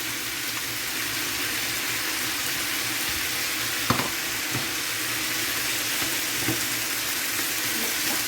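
Vegetables and pork stir-frying in a pan, a continuous bright sizzle close up with a few sharp clanks of stirring against the pan.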